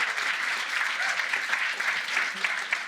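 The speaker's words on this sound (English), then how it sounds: "Give him a round of applause." A conference crowd at a start-up event breaks into applause, a thick, sustained patter of many hands clapping at an even level for a few seconds.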